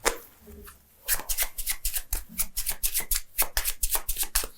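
A deck of playing cards is riffled and shuffled at a close-up magic table, producing a quick run of crisp, evenly spaced flutters and snaps after a brief pause, close and clear with no talk over it.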